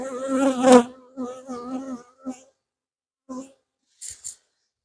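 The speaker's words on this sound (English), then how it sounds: "There's a bee that's decided it's had enough of me in here." A honeybee buzzes close by during a bee yard hive inspection among brood and honey frames, its drone rising and falling in uneven bursts that fade and return as it circles.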